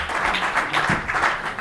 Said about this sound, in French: On peut applaudir les intervenants et monsieur.